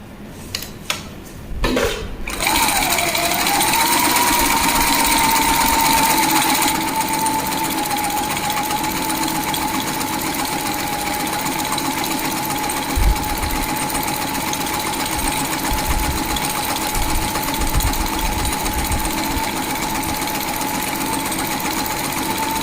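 A sewing machine runs a long, steady stitching line of gathering stitches across fabric, humming continuously and evenly after a few brief clicks at the start, with no talking.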